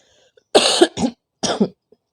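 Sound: cough

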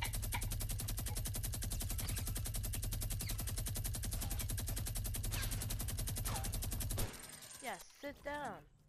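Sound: gunfire in Fortnite video game

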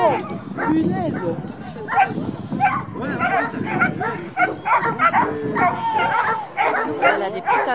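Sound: dog barking

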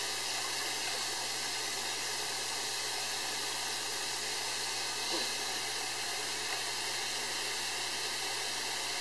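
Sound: hot water running from tap to rinse airbrush

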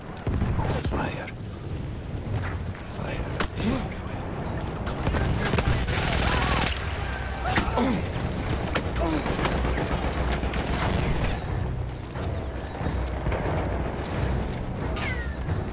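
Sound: gunfire in the video game Battlefield 1

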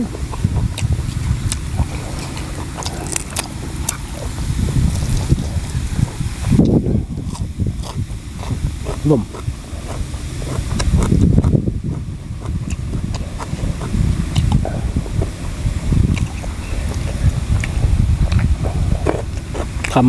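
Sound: wind blowing outdoors

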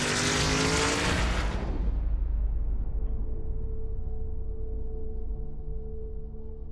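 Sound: race cars on a racing track

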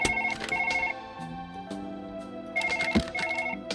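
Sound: telephone ringing in video game Surgeon Simulator

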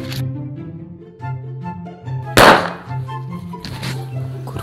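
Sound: Diwali firecrackers going off

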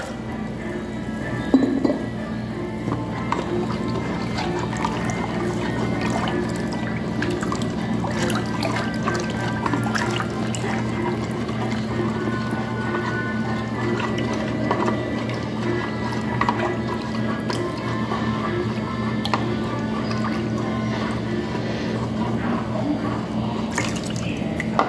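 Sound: pouring ice water into a mixture

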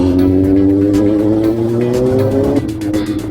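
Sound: motorcycle riding

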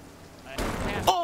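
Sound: lightning strike hitting the player in the video game Sea of Thieves

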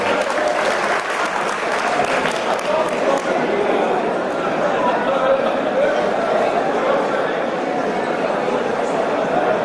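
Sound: audience applause

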